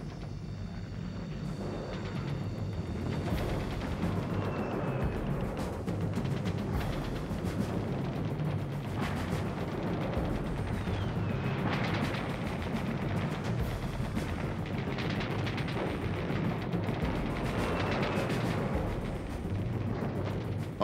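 Artillery and mortar fire on a World War II beach at Iwo Jima, a dense, continuous barrage of booms and crackling gunfire rumbling throughout, loud and sustained with no talk.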